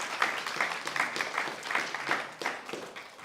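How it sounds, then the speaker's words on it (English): An audience applauds the puppy raisers at a guide dog graduation, producing soft, distant clapping in uneven bursts that carries on steadily throughout. "Another round of applause,"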